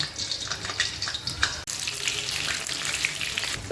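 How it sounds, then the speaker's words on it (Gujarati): Whole eggplants frying in hot oil in a kadai, giving a steady, loud, hissing sizzle that runs continuously from start to finish, close up and with no talking. "હવે રીંગણા આપણે તળી લઈશું"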